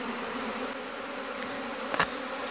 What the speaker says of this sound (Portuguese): Deixa eu agitar as abelhas aqui.